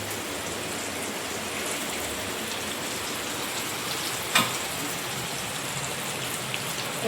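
Rava-coated pomfret fish frying in a pan over high heat, giving a steady crackling sizzle throughout with one brief sharp pop.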